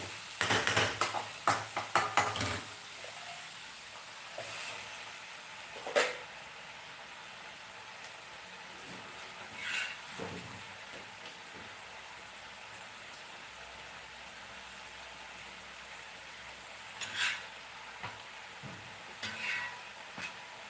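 A curry is stirred in a pan with a few quick scraping strokes at first, then sparse, isolated scrapes over a soft sizzling hiss.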